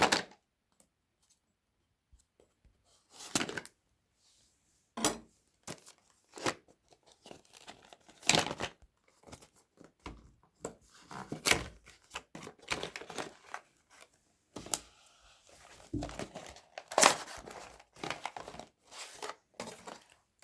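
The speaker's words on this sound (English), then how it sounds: "Just cut the seal." Seal on a Nokia 4.2 phone box being cut and the box opened, with sparse close crinkles, snips, scrapes and cardboard taps scattered through otherwise quiet moments.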